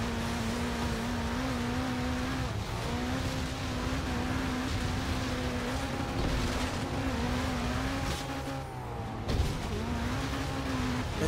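Car engine humming steadily in Forza Horizon 3, with pitch shifts as the driver struggles to control a powerful car, accompanied by a rushing, noisy wash of road and wind sound, no voices.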